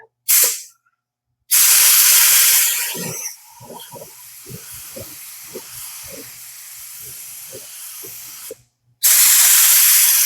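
Bursts of spray hiss from a paint gun coating a Ford F-150, loud and close, separated by quiet pauses with faint handling noises in between.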